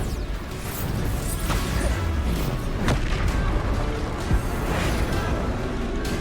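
A Bombarda explosive spell in Hogwarts Legacy combat, booming blasts and crashing impacts mixed with whooshes amid a dense, continuous battle soundscape, moderately loud.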